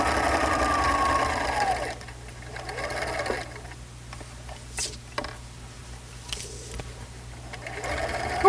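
A sewing machine stitches through fabric and padding layers of a pillow with a fast, close mechanical whir that runs strongly at first, then eases into quieter intermittent stitching and handling taps.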